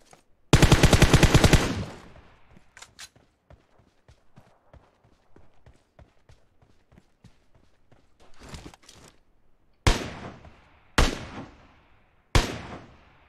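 Cartoon gunfire bursts out loud in a dense rapid volley near the start, followed by a stretch of light scattered ticks and taps, then three sharp separate shots toward the end with no talking.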